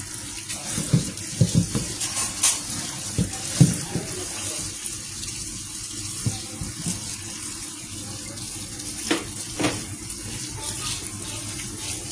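Crabs and shrimp are rinsed under running tap water, a steady close faucet stream with irregular splashes and knocks as the shellfish are handled, continuing throughout with no talking.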